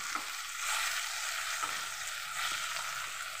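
Desi chicken pieces frying with onions in a hot pan, a steady close sizzle with occasional scraping stir strokes, no talking.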